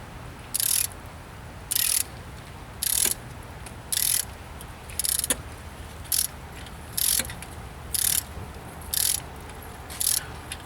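A ratchet turning a spark plug into its well on a 1998 Toyota Corolla, in about ten short bursts of rapid clicking at an even pace, close up and with no voices.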